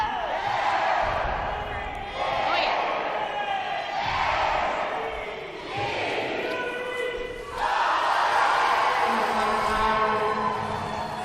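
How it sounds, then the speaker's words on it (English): A rowdy Scottish crowd fills an indoor curling arena during a women's junior championship final, with loud, sustained roaring, whooping and cheering that swells in several waves and barely dips between them. "they're playing against the Scottish crowd here. A really rowdy bunch in here tonight"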